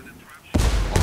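A C4 demolition charge goes off in the video game Ghost Recon Wildlands: after a quiet low hum, a sudden loud, broad blast hits and sustains with rumbling debris to the end.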